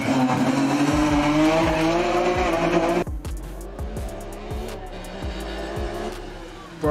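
BMW 1 Series race car fitted with an F1 engine revving to 12,000 RPM, a loud high-pitched wail that drops abruptly and then pulses through rapid gearshifts, up close, with faint voices beneath.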